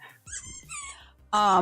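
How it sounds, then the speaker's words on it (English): A dog squeaks a toy and growls close to the microphone, high whiny squeaks mixed with low grumbling, ending in a loud burst of squeaking. "I'm so sorry if you can hear my dog squeaking in the background."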